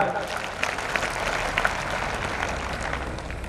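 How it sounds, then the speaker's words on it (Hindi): An audience at an award ceremony gives sustained, dense applause that fills the whole stretch at steady loudness, a few sharper claps standing out. "तो एक बार फिर से इनके लिए जोरदार तालियां।"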